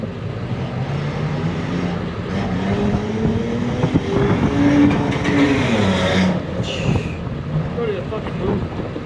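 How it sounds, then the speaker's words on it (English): Cars race along a street outside a workshop where a 2003 Ford F450 with a 6.0 engine is being worked on. A steady, loud engine roar swells and passes by, with a rising-falling pitch sweep in the middle. "People always racing up and down the street."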